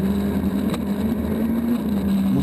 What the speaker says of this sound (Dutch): de laatste generatie van de World Rally Cars, de Mini John Cooper Works